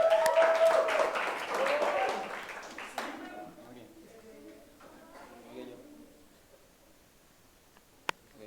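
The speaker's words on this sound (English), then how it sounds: "Let's give a round of applause for Rafael" Classroom applause, a burst of many hands clapping for about three seconds that then dies away, leaving quiet room sound with a faint voice and a single sharp tap near the end.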